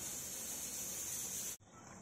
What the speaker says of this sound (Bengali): মাংস কষানো চলছে